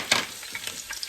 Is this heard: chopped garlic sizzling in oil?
yes